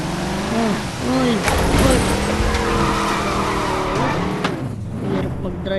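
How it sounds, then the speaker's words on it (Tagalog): A car skids across a slippery road in a video game, with engine drone and tire squeal running continuously and loud, and overlapping music and game sounds throughout. "Hirap mag-drive ang dulas."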